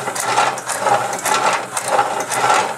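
A homemade industrial-strength can crusher's motor turning counterclockwise, a loud close mechanical clatter with a regular ratcheting, gear-like rhythm pulsing roughly twice a second, running alone with no talk.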